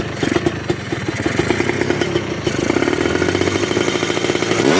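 A tuned Kawasaki Ninja two-stroke motorcycle engine runs loud and close, its buzzy, rattling note holding near idle with small blips before climbing in a rev toward the end.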